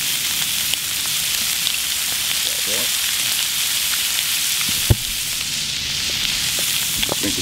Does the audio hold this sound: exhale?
no